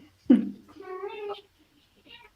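A pet cat meows nearby: a sharp opening note slides into a drawn-out, wavering meow, followed after a pause by a faint short chirp.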